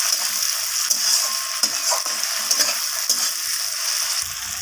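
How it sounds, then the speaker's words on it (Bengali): Tomato, onion and capsicum fry in a pan with a steady close sizzle, broken by the scrape and clatter of a spoon stirring through the vegetables, with no voices. "টমেটোর সাথে পেঁয়াজ ক্যাপসিকাম সব কিছু ভালোভাবে আমি আবারও ভেজে নিচ্ছি"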